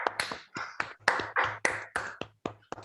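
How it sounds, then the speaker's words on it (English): Applause at a Toastmasters meeting in Bangalore, a sparse, rhythmic run of separate claps from a small group for about three seconds, fairly close and clear. "A big round of applause for the table topic master"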